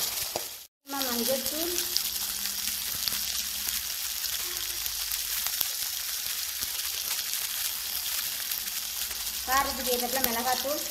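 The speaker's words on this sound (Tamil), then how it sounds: "உருளைக்கிழங்கு எல்லாம் சேர்த்து வதக்கிக்கலாம்." Cluster beans, shallots and potatoes sauté in a pan, a steady bright sizzle with stirring scrapes throughout and a short silent gap near the start.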